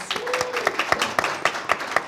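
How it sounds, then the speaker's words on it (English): A small audience at a public-good advertising and marketing talk claps in a sparse, irregular patter of distinct handclaps, moderately close, with a faint tonal hum in the background. "Let's give Gabriela another big round of applause."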